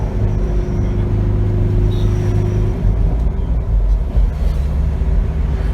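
A 2021 Force Gurkha with its 2.6 l BS6 engine pulls hard on turbo boost while overtaking in traffic, giving a loud, steady, low engine rumble that holds for the whole stretch with no pause.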